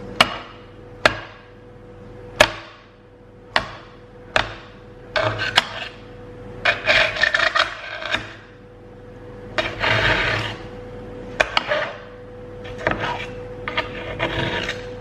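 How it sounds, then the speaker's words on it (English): A knife chops thin slices of avocado on a wooden cutting board in a home kitchen, a series of about a dozen sharp, close knocks with short scraping rubs between them, alone with no talking. "now all we need to do is cut up the avocado"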